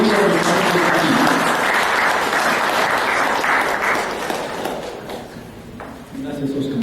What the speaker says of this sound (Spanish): Recibamos por favor con un fuerte aplauso a los doctores de la Universidad.